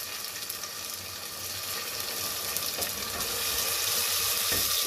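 Tomato paste made from two tomatoes fries in a pan for a dhaba-style Punjabi kaddu chana dal, giving a steady, close hiss that keeps growing slightly louder, with no talk.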